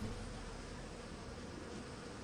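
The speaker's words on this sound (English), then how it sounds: "bugs and all that buzzing around." Insects buzzing in the video game Empire Earth II, a dense, steady drone of many bugs after a desert dust storm in a World War II North Africa campaign, faint and continuous with no talk.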